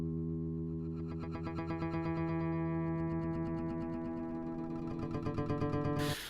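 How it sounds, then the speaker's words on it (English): Echoey granular time-stretch effect from Ableton Live's Sampler: a sustained tonal drone with stacked harmonics and rapid rhythmic pulsing, played loud and continuous, ending with a short noisy burst. "And if we go slower, we get this kind of cool, echoey effect."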